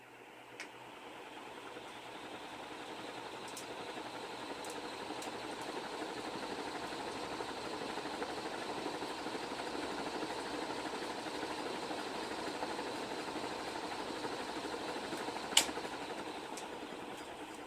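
A Hampton Bay industrial ceiling fan in brushed nickel switched on and running, a steady broad whooshing hum that swells over the first couple of seconds and then holds even, with a few faint clicks.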